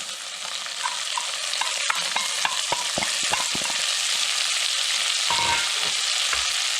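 Bacon sizzles steadily in a pot as chopped onion goes in, a constant bright frying hiss broken by scattered crackles and utensil clicks from stirring, close and fairly loud.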